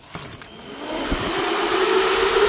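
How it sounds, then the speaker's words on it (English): An electric fan run on used solar panel power spins up and over-speeds, its whirring whine rising and holding steady and close, with a few knocks at the start. "That fan's over speeding."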